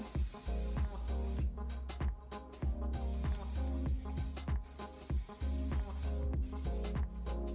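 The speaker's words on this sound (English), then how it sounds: "let's like hairspray the shit out of it" Hairspray from an aerosol can blasts onto hair styled in a 90s blow-dry look, in a rapid series of short, close hissing bursts repeated over about seven seconds, with no talking.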